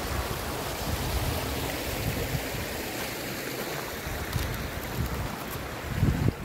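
Water rushing steadily at the Kokaha mountain spring source in the dry season, a constant broad flow with some wind buffeting the microphone and no speech.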